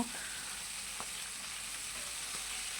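Two fish fry in a pan with a continuous soft sizzle and faint scattered pops, heard alone at low volume.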